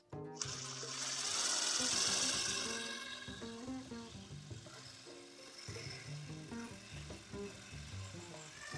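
A power drill boring a hole in wood for a DIY bird feeder, grinding and whirring continuously up close for several seconds, its pitch wavering as the bit bites and drifts, with a brief sharp knock near the start.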